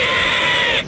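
A voices a loud, sustained shrieking bird squawk as an imitation, one strained high cry held nearly a second before cutting off abruptly.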